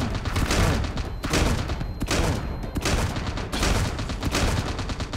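Rapid gunfire from the Medusa hero in a shooting video game, loud bursts of shots repeating in quick volleys with short pauses between them.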